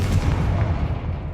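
Confringo blasting spell fired in Hogwarts Legacy, a loud, close, deep booming blast with rumbling low end that holds steady for just over a second.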